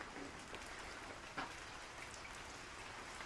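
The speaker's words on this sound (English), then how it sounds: "It's raining outside" Soft, steady rain patters outside, an even hiss of drops with an occasional louder tap, faint and continuous with no voices.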